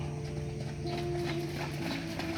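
Two racehorses trot past during training at the Sumedang racecourse, their hooves clip-clopping in a steady rhythm over a dull background murmur, moderately near and fairly quiet.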